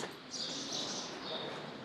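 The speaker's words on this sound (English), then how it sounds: "And listen to those birds." Birds chirp and trill among the ancient stone walls of the Temple of Karnak in Egypt, a faint high twittering chorus carrying steadily over soft background ambience.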